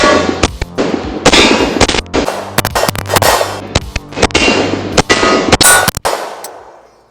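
A PSA Dagger full-size pistol fired with a Magpul Glock magazine: a rapid string of sharp, loud, close shots with ringing clangs and irregular spacing, tailing off into quiet.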